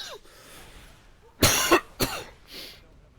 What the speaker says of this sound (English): Sorry, having a bit of a coughing fit there.